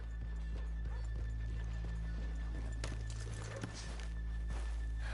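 Horse hooves clip-clop at a walking pace in the video game Red Dead Redemption 2, over a low steady hum, with a faint whinny and scattered background noise.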